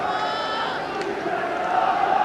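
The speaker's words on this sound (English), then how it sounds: "Well, the Hearts fans started in good voice" Hearts football fans in a stadium crowd of about 28,000, a broad, sustained roar of singing and cheering from many distant voices, swelling slightly toward the end.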